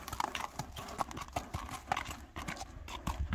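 Steady clip-clop of a ridden horse's hooves, a horse named Lezba, beating a quick, even rhythm close by over a constant background hiss, with no one talking.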